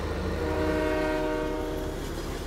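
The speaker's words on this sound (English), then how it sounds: "Look out, there's a train." A train in Farming Simulator 15 on a California Central Valley farm map rumbles past with a sustained horn blast, heard loud and continuous over rolling rail noise.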